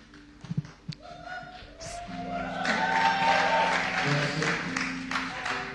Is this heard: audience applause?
yes